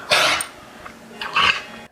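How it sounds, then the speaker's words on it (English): A dog with chronic bronchitis gives a dry, hacking cough: two harsh, honking bursts about a second apart, close and fairly loud, with quiet breathing between. "Dogs with chronic bronchitis generally have a persistent, dry, hacking cough, which almost sounds like a goose honk."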